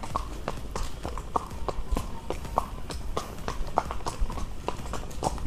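Hooves of a pony ridden for tourists clip-clop in a steady, close walking rhythm of sharp knocks over a low rumble of background noise.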